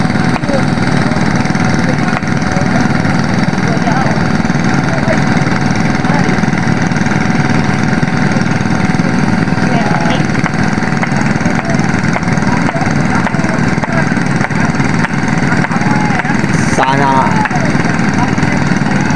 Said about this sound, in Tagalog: Nagpaling na po sila ng makina nila.